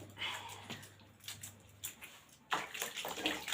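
Feet are scrubbed with a clothes-washing brush and soap during a home pedicure, heard as irregular brushy strokes and splashes of water close by, with no talking.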